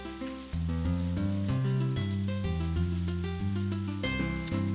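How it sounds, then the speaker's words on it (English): Rain falls in the farming video game Harvest Moon: A Wonderful Life, a steady patter under a looping background music track with low, repeating notes. "Also sounds like it's raining."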